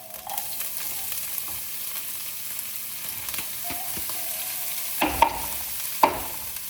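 Ginger browned in oil sizzles steadily in a pan while cauliflower frying with it crackles, with a couple of sharper clinks of a spoon stirring near the end.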